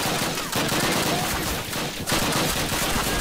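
Sustained automatic gunfire in the Call of Duty video game, loud and continuous throughout with rapid overlapping shots and brief dips in intensity.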